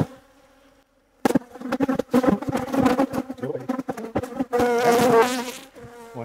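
Bees from a disturbed hive, stirred up during tree cutting, buzz loudly and close, individual insects whizzing past in rapid overlapping drones after a moment of near silence.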